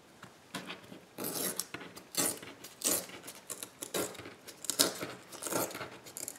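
Scissors or a blade cutting paper for a junk journal, a series of close rasping, rubbing strokes in uneven bursts, soft and dry, with brief pauses between cuts.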